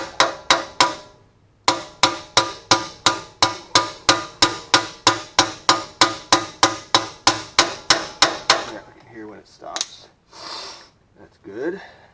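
Repeated hammer blows strike a 2014 Ford F150 rear axle part in a steady, forceful rhythm, about two dozen sharp ringing metal hits, followed by heavy breathing and shuffling.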